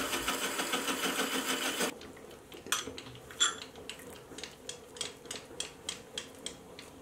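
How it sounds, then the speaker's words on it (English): A slitting saw on a milling machine cuts an inside corner in a steel toolmaker's vise, starting as a dense steady whine that stops, then gives way to a series of regular sharp ticks and scrapes. "I'll use the slitting saw to relieve the inside corner."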